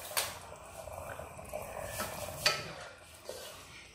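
Rice being stirred in a pot with lime juice, salt and slit green chili while making Andhra-style chicken biryani, giving a few soft scraping swirls and clinks over a steady low background, alone without talk.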